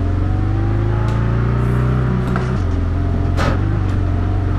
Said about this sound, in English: Engine sounds the same.